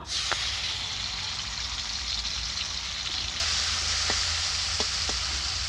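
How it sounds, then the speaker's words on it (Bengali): Prawns fry in hot oil in a wok, making a dense, bright sizzle that swells louder partway through. A few faint clicks of a utensil are heard, and no one speaks. "কড়াই তেল দিয়ে চিংড়ি মাছগুলো ভেজে নিব"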